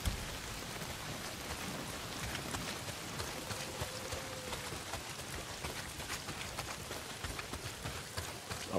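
Heavy rain falls in the Days Gone video game, a constant dense hiss of drops on surfaces, fairly faint and steady, with no speech.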